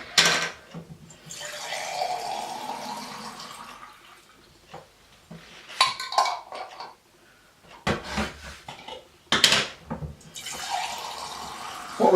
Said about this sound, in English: I'm going to put some water in the jam jars as well